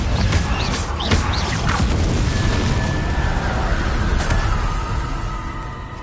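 A loud booming blast from the Confringo spell in the Hogwarts Legacy video game, a rumbling explosion with crackling debris that fills the whole moment and slowly fades.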